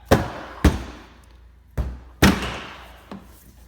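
A hand smacks the front bumper of a Honda Pilot several times to knock it loose: four sharp, hollow thumps with brief ringing decay and uneven gaps between them, close up with no talk.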